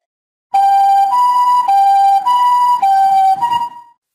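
A loud two-tone siren wails, alternating between high and low pitches several times before stopping abruptly.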